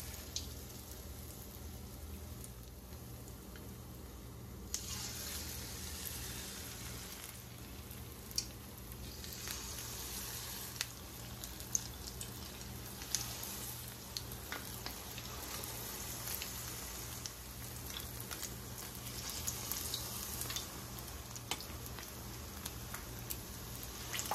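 Conch fritter batter frying in hot oil: a steady crackling sizzle that jumps louder after a few seconds as more batter goes in, with scattered pops throughout and no talk.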